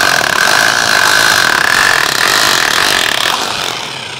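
A hammer drill runs continuously in hammer mode, drilling through ceramic tile, giving a loud, close, harsh buzzing rattle that eases slightly toward the end.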